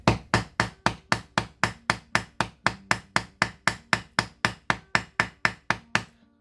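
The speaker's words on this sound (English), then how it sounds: "And then let's try our Rawhide Mallet." A rawhide mallet striking jewelry metal, a steady run of about twenty-five crisp, evenly spaced blows, each sharp and ringing briefly, close and loud with no talking.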